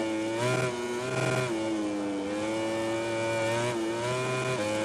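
Kawasaki motorcycle engine in the MotoGP 20 racing video game, a steady sustained drone with rising and falling pitch as the revs shift, loud and close with no talk over it.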